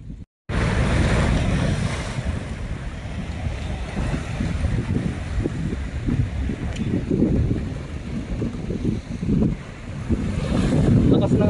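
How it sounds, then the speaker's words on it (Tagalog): Strong waves break along the shore at Dammam Corniche on a rough sea day, a continuous loud wash and rumble that is heavily buffeted by wind noise on the microphone. "Lakas ng alon dito"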